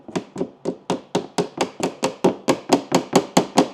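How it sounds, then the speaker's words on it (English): A hammer taps glove box hinges into an Audi dashboard, giving about fifteen light, evenly spaced taps in a quick steady rhythm, close and clear with nothing else heard. "We're going to take our hammer and tap them in very gently."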